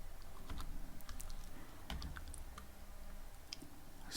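Code being typed on a computer keyboard gives a quiet, quick run of clicking keystrokes at close range in an irregular rhythm, with no talking.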